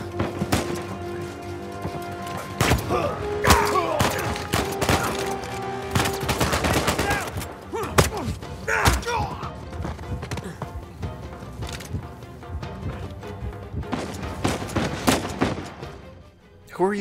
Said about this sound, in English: Who are you shooting at, Sam?